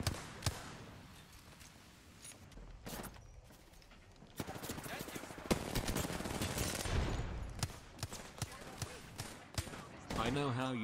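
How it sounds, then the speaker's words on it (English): Wingman pistol shots in the battle royale game Apex Legends, sharp single cracks spaced irregularly amid a busy firefight with other gunfire and game effects, all at a fairly low level. "I know how you feel about those wingman shots"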